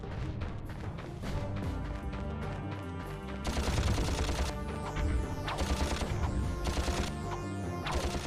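Gunfire from the Ratchet and Clank video game, heard as dense, continuous rapid-fire shots and metallic impacts layered over a busy game soundtrack, growing louder and fuller partway through.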